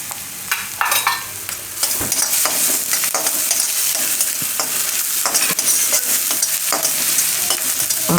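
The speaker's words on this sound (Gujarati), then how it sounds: "ડુંગળીને થોડીક વાર ફેરવી લેવાની." Onions and ginger fry in a pan for a vegetable lasagna, with steady stirring scrapes and a constant broadband sizzle close by throughout, punctuated by sharper clinks and spatula strokes.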